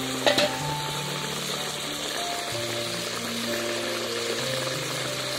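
Fried eggplant sizzles steadily in a covered pan, a continuous frying hiss with a faint low hum beneath it, close and alone with no voices.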